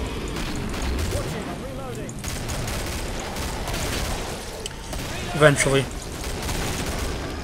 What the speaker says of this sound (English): I'm just shooting at shit that's dead.